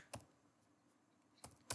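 A few isolated computer keyboard keystrokes while typing C++ code, faint and sparse, with one tap early and a quick pair near the end over a quiet room.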